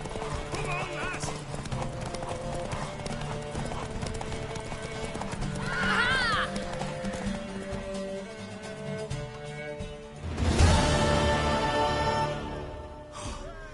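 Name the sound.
horse galloping and neighing in video game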